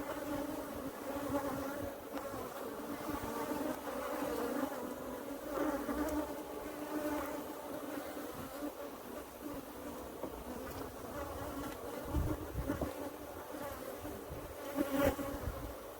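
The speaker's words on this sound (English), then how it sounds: "you see how quiet the bees are" Africanized honeybees hum in a steady, dense drone at an open hive calmed with cashew-seed smoke, a continuous buzzing swarm heard close with no speech.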